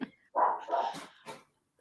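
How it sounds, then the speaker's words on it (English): A pet dog barks indoors, a few loud close yips and barks in quick succession, then a short pause and one more brief bark at the end. "sorry, my dog."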